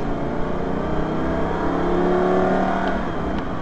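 A four-wheel-drive car at Hampton Downs race track accelerates, heard from inside as a loud, steady engine drone with a rising note that climbs and then levels off, with no talking.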